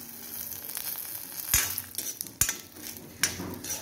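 Peanuts and other chutney ingredients dry-roasting in a pan, with a soft continuous sizzle and crackle broken by three sharp scraping clatters of a spoon stirring against the metal.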